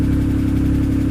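A car that has sat unused for a long time runs at a steady, loud, close idle just after starting while the engine is still cold.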